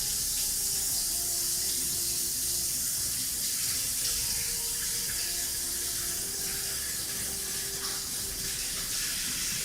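Tap running water at a sink while hands are washed, a steady close hiss and splash held throughout without pause.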